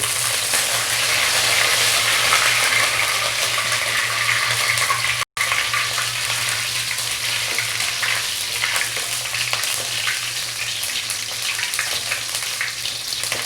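Green chillies, dried red chillies and curry leaves fry in hot oil for an Andhra egg gravy, producing a steady, dense crackling sizzle that holds throughout with one brief cut.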